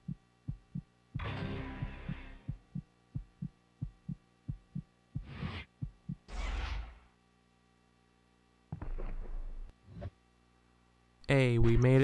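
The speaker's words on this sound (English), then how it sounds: "I'm sorry about the heartbeat sounds." Rhythmic heartbeat sound effect from the PS2 skateboarding game Tony Hawk's Project 8, a steady train of soft low thumps running through the clip, partly overlapped by game sounds and bursts of noise.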